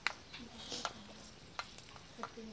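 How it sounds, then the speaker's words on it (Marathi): Garlic, green chilli and curry leaves fry in hot oil, giving a soft, faint sizzle under scattered light scrapes and taps of a stirring spoon. "त्यातच आपण कापून घेतलेला कढीपत्ता टाकून घेऊया. तो पण छान परतून घेऊ."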